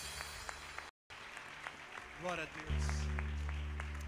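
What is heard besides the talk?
congregation applauding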